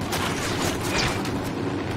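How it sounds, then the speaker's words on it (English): Gunfire erupts in a Ghost Recon Wildlands firefight against Santa Blanca cartel forces, a dense, continuous volley of loud shots and booms that fills the whole moment without a break. "Opening fire."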